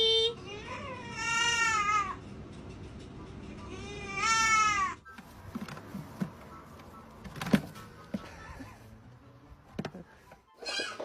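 A newborn baby goat bleats twice in long wavering cries, close and fairly loud, followed by quieter shuffling and scattered knocks with faint background noise.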